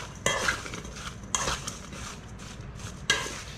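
Cucumber kimchi being mixed by hand with salt and sugar in a bowl, close and quiet, with a few sharp clacks and wet rustling stirs spread across a few seconds.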